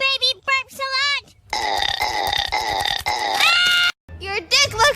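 A female cartoon character lets out a series of drawn-out, loud burps, some pitched and voice-like and some gravelly, separated by brief silences.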